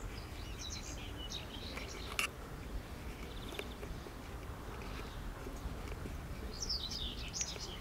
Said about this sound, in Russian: Поют птички.